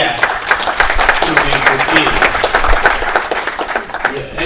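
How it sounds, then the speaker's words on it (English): An audience at a Chuka University Faculty of Humanities and Social Sciences event claps steadily, with dense, continuous applause from a crowd filling the room, with no clear break. "Can we clap for the people who have made the idea to"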